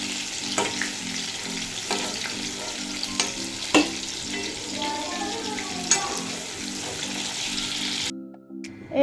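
Pieces of pointed gourd (potol) sizzle steadily in hot oil in a pan for a Bengali-style dahi potol dish, with stirring scrapes and occasional sharp clinks over the continuous frying hiss, ending abruptly.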